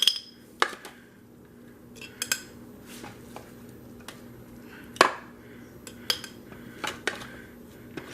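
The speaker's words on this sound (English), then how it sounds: "I'm just going to spoon this seasoning into there" Spoon clinking against a pot while green seasoning goes into oil: scattered light metallic taps and scrapes, a few sharper clinks, close and fairly quiet with no talking.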